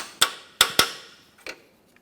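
A hammer taps a through bolt out of a 2007-2017 Jeep Patriot subframe: three close, sharp metallic strikes, then a fourth lighter tap after a pause, all near and clear.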